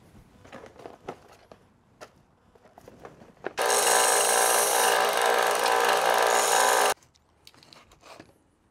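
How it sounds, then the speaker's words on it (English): A cheap electric coffee whisk spins at high speed, a loud, even high-pitched whir lasting about three seconds, framed by quiet handling clicks and taps before and after. "This is a, you know, just a little whisk for your coffee."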